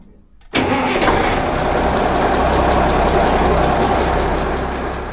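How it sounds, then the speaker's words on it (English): A boat engine cranks and catches abruptly after a moment of quiet, then settles into a loud, steady mid-pitched idle that runs on without a break. "so let's get the engine started."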